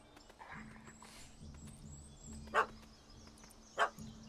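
A dog in The Witcher 3 barks at a cat up a tree, two sharp, fairly distant barks spaced about a second apart over quiet game ambience and faint background sounds.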